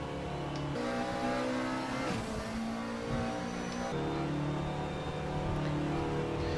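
A GTR3 or LMP2 race car at Paul Ricard in the Raceroom racing game revs hard and climbs through the gears, with steady loud engine drone and clear shift breaks.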